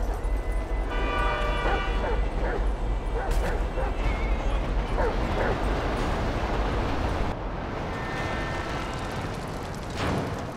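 A dog barks and yips in the video game GTA V, its sharp barks mixed into dense, loud game noise and rumbling effects that run without a break under the action.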